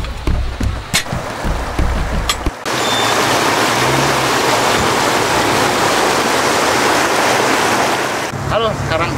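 Rushing water roars at the foot of a waterfall below a mountain, a loud, continuous wash preceded and followed by brief handling noise and clicks.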